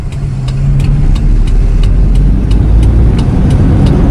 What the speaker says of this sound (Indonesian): Setengah kopling mulai dibuka dikit-dikit. Mulai jalan.